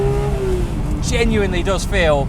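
A Porsche 991 Speedster engine hums steadily under close conversation, then gives quick revving blips as gears shift by hand, each a short rising and falling note.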